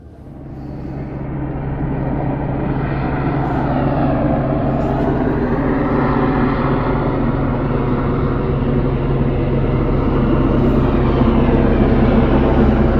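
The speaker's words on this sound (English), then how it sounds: "Just out here camping and getting shined on by the helicopter" A helicopter passing low over a snowy winter campsite during a heavy snowstorm, a loud, sustained rumbling drone that swells up in the first seconds and then holds steady and near.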